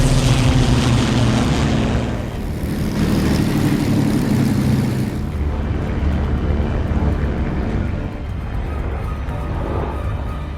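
Propeller-driven P-51 Mustang fighter planes fly overhead with a loud, continuous engine drone and roar that holds steady for several seconds and then shifts into a rougher, broader rumble as they pass, with no voices.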